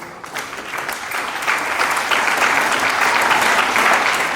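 An audience at a gathering breaks into applause that starts moderately and swells into loud, sustained, dense clapping, with no voices standing out.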